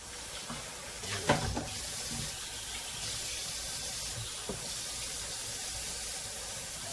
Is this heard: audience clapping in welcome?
no